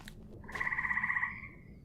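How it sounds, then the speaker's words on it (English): A frog croaks in a video game swamp, a single faint rhythmic trilling croak of about a second that trails off over a low ambient background. "The frog sound makes me feel like I'm in a swamp"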